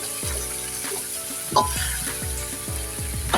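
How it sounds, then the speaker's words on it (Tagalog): Onion and garlic sautéing in a hot pan for pork humba, a steady close sizzle broken by repeated stirring scrapes and clatters, with no talking. "Magisa na nga tayo dito ng ating sibuyas bawang"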